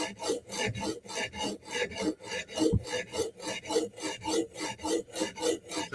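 A file sharpens the heel of a blade in a rhythmic series of close rasping strokes, about a dozen back-and-forth scrapes in steady succession with no talking.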